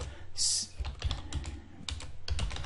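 Typing on a computer keyboard, a steady run of close, crisp keystrokes in quick irregular bursts with a brief pause midway, clear and alone with no talk.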